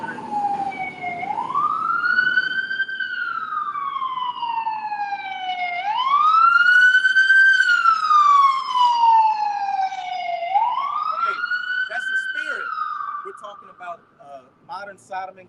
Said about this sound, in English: a fire truck just passed